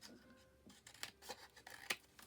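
Scissors cutting down a paper envelope pocket for a small folio craft, a few close, crisp snips and rustles in quick succession, quiet and alone.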